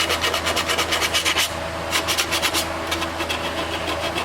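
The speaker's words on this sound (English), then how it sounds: "Give it a good scrubbing." A brush scrubs hard at a rotted engine part, giving rough rasping strokes in quick repeated bursts, close and loud, with a short pause midway before the strokes resume; no voices.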